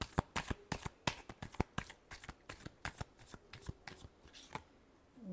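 Tarot cards being shuffled by hand in a run of quick, crisp riffling slaps and flicks, close and fairly loud, with no voice over them.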